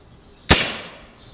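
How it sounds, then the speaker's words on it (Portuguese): A single sharp shotgun blast fired while hunting cracks out loud and close, followed by a short fading echo, with quiet before and after. "Seis tiros já fiz."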